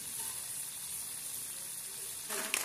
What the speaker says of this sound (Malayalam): ചക്ക വറുത്ത് ആദ്യത്തെ ട്രിപ്പ് ഞാൻ വറുത്ത് കോരുകയാണ്